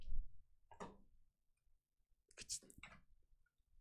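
A computer mouse clicks a few times while a portrait is retouched in photo software: sharp, separate taps with quiet gaps, and faint voice sounds in between.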